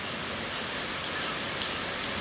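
Heavy daytime rain splashes against a window in a dense, continuous wash of spatter, close and fairly loud, with a few sharper drips near the end.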